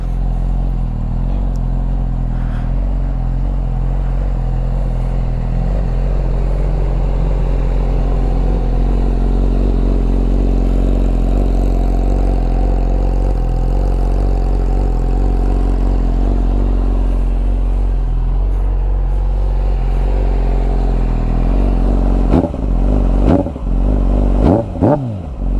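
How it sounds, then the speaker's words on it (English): A 600cc motorcycle engine idles steadily up close for a long stretch, a loud low rumble with a mechanical clatter, until a few sharp revs and handling sounds break in near the end. "let me give you guys a good look around the bike as she is already started"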